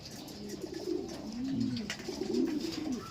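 Pigeons coo softly and repeatedly in hot weather, their low rolling calls overlapping against a faint background hiss.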